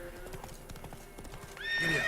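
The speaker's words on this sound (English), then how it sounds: "Easy, horse. Calm down, horse." Rhythmic hoofbeats of a galloping horse in the video game The Witcher 3, ending in a loud, shrill whinny that rises near the close.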